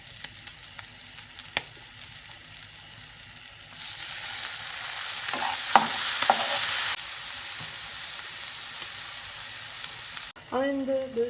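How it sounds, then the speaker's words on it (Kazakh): Meat sizzles and crackles steadily in a hot pan with soy sauce added for a Kazakh funchoza dish. The frying swells louder and hissier in the middle, with a few sharp pops and a brief stirring clatter near the end. "осы қуырылып жатқан етімізге соевый соус қосып бір қасық"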